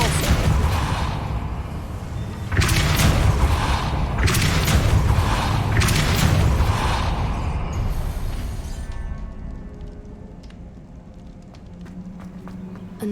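A Depulso spell cast in the Hogwarts Legacy video game lets out a loud series of booming, shattering blasts, several strong bursts in a row that fade into a softer rumbling tail.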